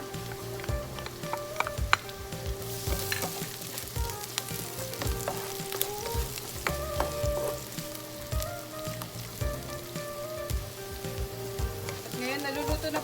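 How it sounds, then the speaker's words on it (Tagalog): Garlic and onion fry in a pan with a steady, dense sizzle, punctuated by occasional clacks and scrapes of a utensil stirring, close and fairly loud throughout, with no talking. "Ngayon, naluluto na po ang garlic and onion natin."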